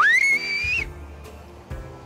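Someone whistles a short, rising tune that is loud and wavering and lasts under a second, then fades into low room noise with faint background sounds.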